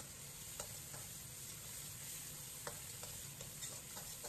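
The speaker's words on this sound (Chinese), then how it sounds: "放入小米辣、泡椒、豆豉，继续开中火炒出香味" Bird's eye chili, pickled peppers and fermented black beans stir-frying over medium heat in melted lard with garlic and ginger, a steady low sizzle broken by a few sharp spatula scrapes and taps, close and alone.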